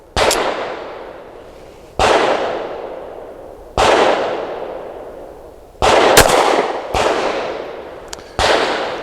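Five sharp shots from a Springfield Armory Prodigy pistol, spaced irregularly a second or two apart, each a loud crack with a long ringing decay outdoors, the fourth followed closely by a second report.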